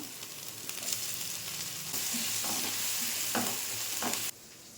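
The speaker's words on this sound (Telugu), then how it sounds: "ఒక స్పూన్ వరకు అల్లం వెల్లుల్లి పేస్ట్ కూడా వేసుకుంటాను లైట్గా ఫ్రై చేసిన తర్వాత కట్ చేసుకున్న ఈ యొక్క టమాటా కూడా ఇందులో వేసుకుంటున్నాను" Ginger garlic paste and chopped tomatoes sizzle steadily in a hot pan, with a constant hiss broken by soft stirring scrapes, close and alone with no voices.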